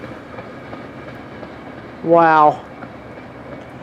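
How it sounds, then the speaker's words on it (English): A long CSX grain train led by an ES44AH with an AC4400 trailing rolls south through Rocky Mount, North Carolina, a steady close rumble of railcars throughout, briefly interrupted by a short exclaiming voice. "A colossal CSX grain train as he heads south today."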